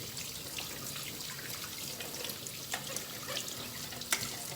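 Dyson V8 cordless vacuum part held under a running tap, a steady faint wash of flowing water with a few small splashy knocks near the end.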